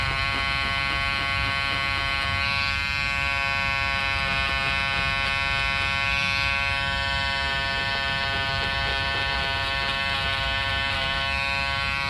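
Electric Peanut stitch remover buzzing continuously as it cuts through the stitches on a jacket, a steady, close, high-pitched whine with slight shifts in tone and no talking.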